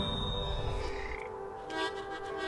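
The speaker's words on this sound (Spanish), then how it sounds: "Esto suelta ranas." Frogs croaking in the video game Papo & Yo, a steady low croaking texture running under layered game music and ambience, moderately loud throughout.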